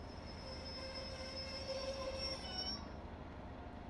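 Train braking on the Wherry Lines between Norwich, Great Yarmouth and Lowestoft in Train Simulator Classic, with steady high wheel squeal over a low rolling rumble that fades near the end.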